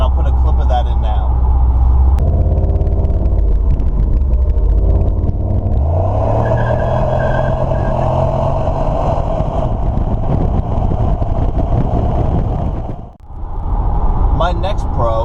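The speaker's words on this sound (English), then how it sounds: "This car, even from the factory, sounds great." A 2007 Chevrolet Monte Carlo SS with its factory exhaust, a loud deep engine rumble that climbs in a rising rev, holds, dips briefly, then picks back up, close to the microphone with no talk over it.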